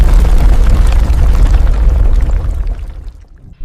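A deep explosion from an asteroid striking the moon rumbles loudly, then decays and fades away over a few seconds.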